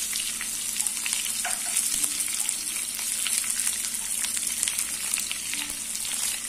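Two medium sliced onions frying in hot oil with mustard seeds for rava upma, a steady close sizzle with faint crackles throughout.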